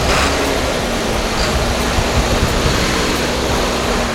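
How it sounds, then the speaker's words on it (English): Big diesel engine of a Kayoola coach bus running, heard as a loud, steady, broadband roar with a low drone that holds constant throughout and has no talk over it. "now that's a sound of a big engine."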